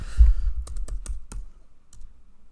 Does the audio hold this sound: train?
no